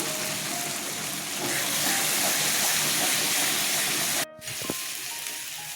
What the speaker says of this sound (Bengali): সর্ষে পোস্ত আদা লঙ্কা তেলে ছেড়ে দিলাম